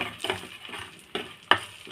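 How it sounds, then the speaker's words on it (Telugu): A tempering of dry chillies, cumin, urad dal and garlic fries in oil, a close crackling sizzle punctuated by three or four brisk stirring scrapes in the pan. "పోపు అయితే బాగా ఫ్రై చేసుకున్నాం."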